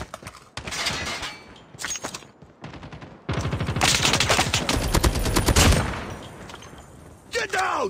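Video game battle: rapid bursts of assault rifle fire and sharper sniper shots crackle close and loud, with stretches of sustained automatic fire, while short shouted voice callouts break in between.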